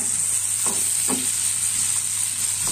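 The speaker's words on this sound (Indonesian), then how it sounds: "Kemudian kita tumis tomat dulu ya. Kita aduk sampai mengeluarkan harum wangi ya." Tomatoes sautéing in a hot pan with garlic and shallots, a steady loud sizzle broken by a few scraping stirs of the spatula, close-up with no talking.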